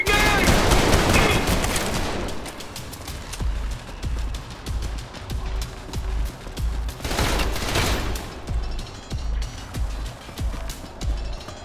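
Gunfire in Trepang2: a dense, loud opening volley of automatic fire, then steady rapid shots in a regular pulse with another heavy burst midway, close and continuous.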